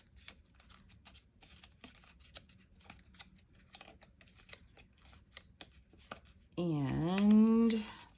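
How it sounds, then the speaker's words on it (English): Paper being folded for a papercraft box, a run of soft rapid creases and crinkles close by, followed by a person speaking. "I'm just folding these again"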